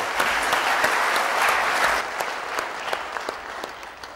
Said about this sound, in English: a big round of applause, please, for Mr. Al-Abdulmalik.